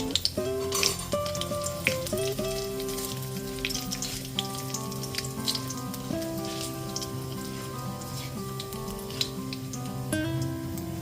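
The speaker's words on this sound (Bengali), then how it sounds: "ফোড়নটা হালকা করে ভেজে নেব" Whole cumin, dry red chillies, cinnamon pieces, cardamom and cloves fry gently in oil over a low flame, a soft steady sizzle running beneath louder tuneful background music.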